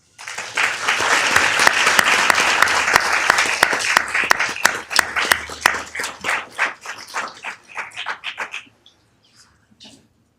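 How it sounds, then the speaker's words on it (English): Audience applause for Kathy Crow Perez at a Downey City Council meeting: dense clapping builds quickly, holds steady, then thins into scattered claps and fades out near the end. "please join me in giving a round of applause to Kathy Crow Perez"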